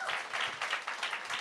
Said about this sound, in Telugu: అందరికీ ఒకసారి క్లాప్స్ కొట్టండి.